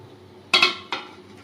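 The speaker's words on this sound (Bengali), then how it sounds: "অল্প করে জল দিয়ে ভালো করে ঘেঁটে দিচ্ছি" A metal spoon knocks against a pot while stirring mango chicken curry with a little added water, two close clanks in quick succession followed by a third, near and distinct, with no speech.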